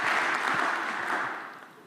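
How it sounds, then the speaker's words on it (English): Audience applause at a conference livestream, a dense steady wash of many hands clapping close by that holds for nearly two seconds, then begins to thin and fade toward the end. "give them a round of applause"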